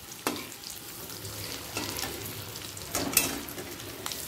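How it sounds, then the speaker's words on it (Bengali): Katla fish roe fritters fry in hot oil with a moderate, steady sizzle, punctuated by a few brief bursts of crackle and spatula scrapes, close and fairly quiet, without any speech. "দ্বিতীয়বারের বড়াগুলো ঠিক একইভাবে ভেজে নেব।"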